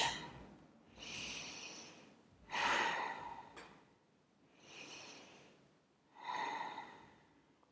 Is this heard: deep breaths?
yes